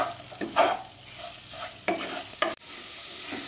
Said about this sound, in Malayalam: ഇതെല്ലാം ചേർത്ത് കൊടുത്ത് നമുക്ക് നന്നായിട്ട് ഇളക്കി കൊടുക്കാം.